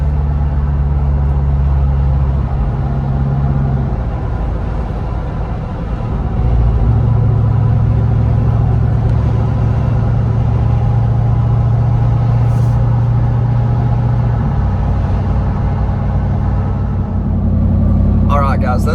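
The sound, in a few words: Jeep Wrangler Rubicon 392 driving on winter backroads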